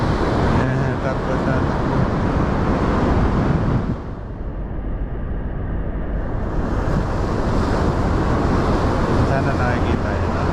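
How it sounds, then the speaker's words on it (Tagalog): Strong ocean waves break at Torrey Pines beach in La Jolla, a loud, constant roar of surf mixed with wind buffeting the microphone, easing briefly midway before surging back to full strength. "Yung alon, ang lakas."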